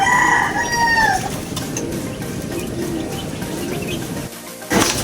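A gamefowl rooster crows once, loud and near, its call falling away over about a second. Softer clucks and bird sounds follow, then a sharp burst of noise at the end.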